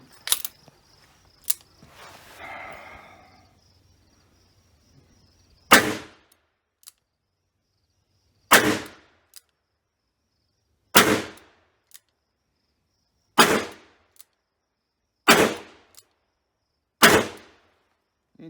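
Smith and Wesson Model 10-6 revolver firing .38 Special at a range, six sharp loud shots spaced about two seconds apart after a few quieter handling clicks, with silence between reports.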